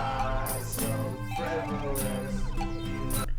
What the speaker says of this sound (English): That synth in the background, how it's all like bubbly and stuff.